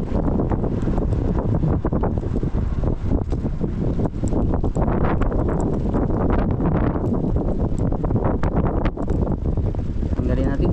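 Strong wind blasts across the microphone out on a fishing boat at sea, producing a loud, unbroken blustery roar that persists for the whole stretch.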